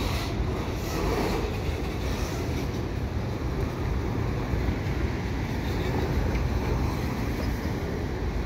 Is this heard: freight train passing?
yes